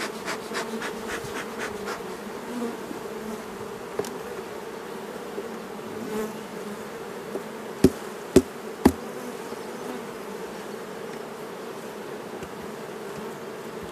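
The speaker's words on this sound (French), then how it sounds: "Encore, il y a beaucoup d'abeilles" Honeybees hum steadily around an open hive in a steady low drone, joined by a few sharp taps and knocks partway through and no voices.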